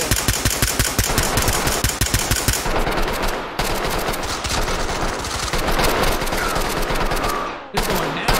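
Rapid gunfire rattles in a firefight in the Ready Or Not video game, with dense, close bursts of automatic shots, a short break, then more shooting.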